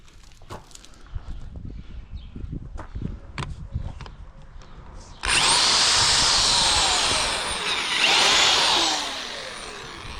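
A power drill bores into a wooden board for a garden bench, whining loudly and steadily for about five seconds after a stretch of quieter handling sounds and soft footsteps, its pitch dipping as the bit bites deeper.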